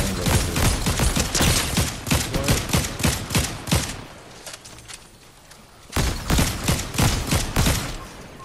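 Rapid bursts of gunfire in a Fortnite match, dense volleys of shots at close range with a brief lull in the middle before firing resumes, no talk over it.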